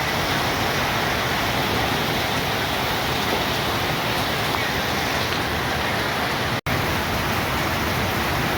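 Heavy rain during a windy storm, a dense, steady hiss that roars on without pause, loud and close, with no voices over it.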